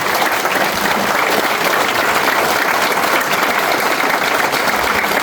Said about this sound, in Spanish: Un fuerte aplauso para ellos 10 en especial.